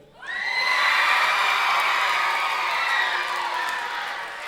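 Audience cheering section at a karate black belt showcase erupting in a sustained wave of shouts, whoops and high-pitched cheers, loud and close, slowly fading near the end.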